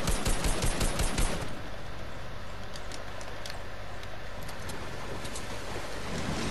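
Rapid gunfire bursts in Fortnite ring out loud and dense at first, then fade into a steady wash of background game noise with scattered sharp clicks and impacts.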